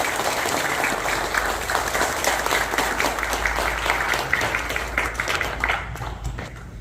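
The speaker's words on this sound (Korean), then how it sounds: "심사한 박수 부탁드립니다." An audience applauds as a doctor is invited to the stage at a lecture on election fraud cases, steady dense clapping sustained at moderate volume for several seconds, tapering slightly near the end.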